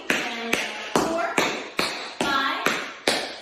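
Tap shoes striking a hard floor in a steady pattern of flap and heel-drop steps, about eight sharp, close clicks and thuds in an even rhythm with no voices.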